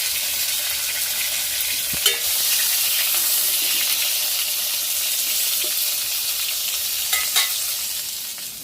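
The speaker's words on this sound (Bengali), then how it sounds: "বেগুনটা আগে ভেজে নিচ্ছি" Eggplant frying in a little oil in a pan, a continuous close hiss and crackle with a couple of louder clinks and stirring knocks, no voices.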